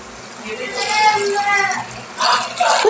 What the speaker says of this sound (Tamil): நான் ஒரு செம்பு தண்ணி ஆட் பண்ண போகிறேன்